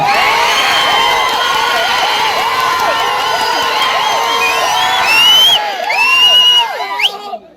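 A large crowd at a Telugu Desam Party political rally in Nellore cheers and shouts with rising whoops and yells, loud and sustained before tapering off at the end.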